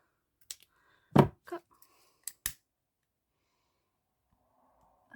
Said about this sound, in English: And then you can take your scissors,